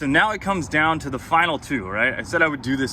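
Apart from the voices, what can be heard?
None of the usual background noises is heard.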